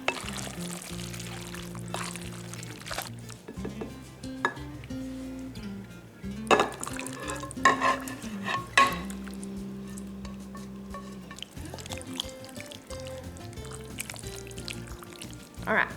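Spaghetti bake ingredients being mixed in a bowl, irregular scraping, clinking and wet stirring sounds close by over background music, with a few louder knocks and bursts along the way.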